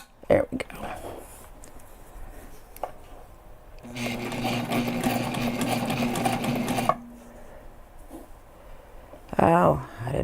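A sewing machine stitching a backpack runs in a steady, rapid whirring burst for about three seconds, close and loud, between quieter moments with light handling noises and a person talking.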